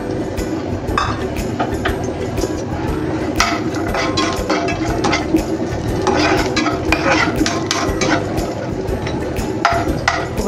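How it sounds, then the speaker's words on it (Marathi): Grated coconut roasting in a little oil in a pan on a gas stove for a village-style egg curry masala, with a steady low sizzle and repeated scraping and stirring scrapes throughout. "खोबरं चांगलं लाल होईपर्यंत आपण या तेलावर भाजून घेणार आहे।"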